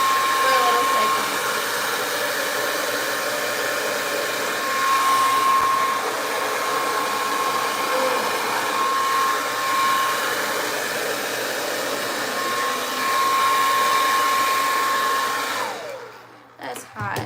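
A handheld hair dryer blows steadily at close range with a constant whirring roar and a faint whine, cutting off near the end.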